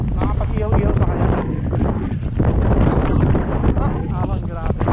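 Strong desert wind buffets the microphone in heavy continuous roaring gusts during a sandstorm at Al Kharrara, Qatar, on a mountain bike ride, with voices talking faintly through the noise.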